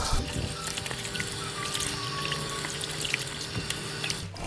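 Water splashes and sloshes steadily as tilapia is rinsed by hand in a basin of plain water, close and continuous, with no talking.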